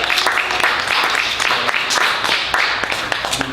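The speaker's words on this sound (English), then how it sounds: "I'd ask that everybody please give her a warm round of applause." An audience at a book reading in a bookstore gives a warm round of applause, steady overlapping claps with sharp individual hand strikes standing out, sustained and fairly loud for several seconds.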